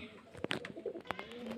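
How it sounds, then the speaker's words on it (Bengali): Pigeons kept for sale at a bird seller's in Beldanga coo softly in short throaty bursts, fairly faint and close, with a light chirp among them. "পায়রাগুলো সেলের জন্য দেখানো হয়।"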